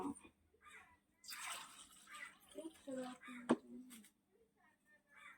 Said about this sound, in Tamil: ஒரு டம்ளர் தண்ணி ஊற்றுறேன்